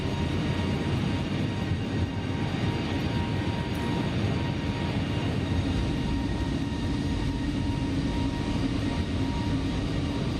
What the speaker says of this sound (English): The airplane sounds pretty good.